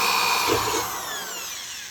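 A power drill chases out pilot holes in an amplifier chassis, its loud, close whine winding down steadily over about two seconds with no voices.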